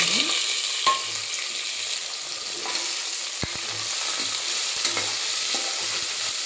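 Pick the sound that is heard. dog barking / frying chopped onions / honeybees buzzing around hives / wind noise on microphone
frying chopped onions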